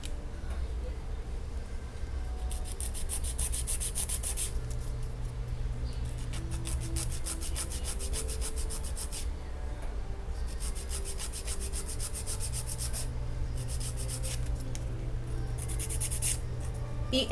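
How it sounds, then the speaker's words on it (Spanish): A nail file is worked straight along the sides of gel nails, making soft, close, rhythmic rasping strokes in repeated bursts with short pauses between them. "Y voy a proceder a limar. Limamos recto en laterales."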